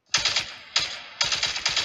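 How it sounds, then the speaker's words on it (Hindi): Gun loading in Call of Duty gameplay: three sharp metallic clack-and-rattle bursts in quick succession, each a bright mechanical clatter that decays briefly, close and fairly loud, with no talking. "ओके लोड कर रहे गन"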